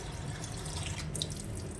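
Running water pours steadily into a container for a moment, a continuous splashing rush without any voices.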